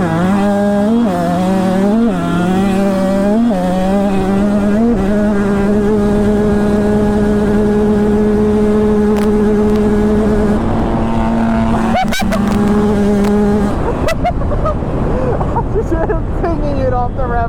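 Three dirt bikes, a Honda CRF250, Kawasaki KX250F and KTM 125 two-stroke, drag racing; loud engines rev and hold high pitched tones near the mic, then fade off into the distance with voices in the background.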